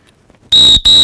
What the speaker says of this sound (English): You'll hear me blow my whistle 2 times, and it's going to be super loud